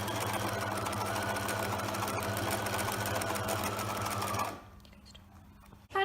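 A sewing machine stitches fabric for an apron, a steady, fast mechanical whirr that runs loud and even for about four seconds before stopping abruptly.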